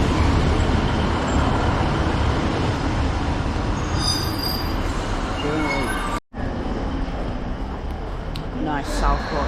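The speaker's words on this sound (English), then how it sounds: "Nice Southport train here." A Class 151 train bound for Southport pulls into Bolton station, its wheels squealing and screeching loudly over a steady rumble of rail noise, with a brief dropout midway and rising squeals near the end.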